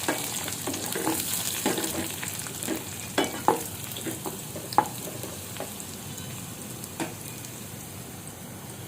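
Onions fry in hot oil in a pan with a bay leaf, giving a steady close sizzle broken by sharp crackles and spatters, with occasional louder pops as the food is stirred.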